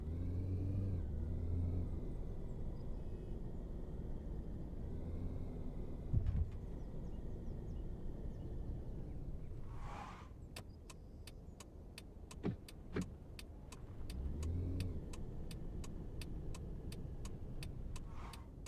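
A taxi's car engine in the Taxi Life driving game, a steady low rumble that shifts in pitch as it drives, joined later by a series of sharp regular clicks.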